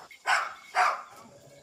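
A female dog barks twice outdoors on a farm road, two fairly loud, short barks about half a second apart, followed by quiet.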